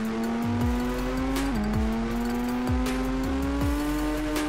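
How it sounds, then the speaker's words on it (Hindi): A Mahindra Thar in a driving video game revs hard at full throttle with a steady, loud engine drone that climbs in pitch, broken by short dips as gears shift, with a faint squeal of tyres beneath. "तो भाई मैंने थार में फुल बेस दबा दी है।"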